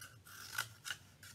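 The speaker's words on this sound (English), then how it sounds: "When you cut the tubes, you just take your scissors and cut" Scissors snip into a cardboard tube in a few quick, close cuts, with crisp bursts of blade scraping separated by brief pauses.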